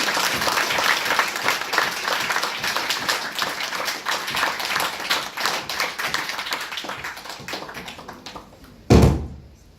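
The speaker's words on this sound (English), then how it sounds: "Can we give her all a very big round of applause also?" A satsang audience applauds in a dense, steady patter of many hands that slowly thins out, then a single loud thump or door bang lands near the end.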